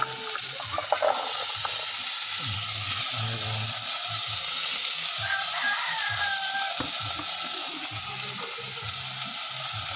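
Vegetables added to a frying pan with tilapia: a continuous loud sizzle and crackle fills the clip, with a rooster crowing in the background partway through.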